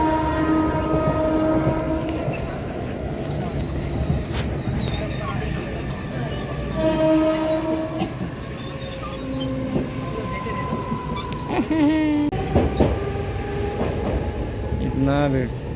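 A Mumbai local train running, with a loud continuous rumble of wheels and carriages, repeated horn blasts, and squealing metallic tones near the end, while voices chatter in the background.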